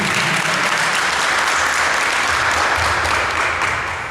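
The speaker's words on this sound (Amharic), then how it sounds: "ሞቅ ያለ ጭብጨባ ሁላችሁ" Warm, sustained applause fills the hall from a large audience at an Adwa Victory anniversary celebration, steady and loud throughout with no talk over it.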